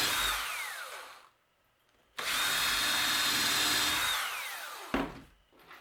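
A power drill bores pilot holes for screws in a wooden wren house kit, with two close, steady whining runs that wind down at the end of each, a quiet gap between them, and a short final burst.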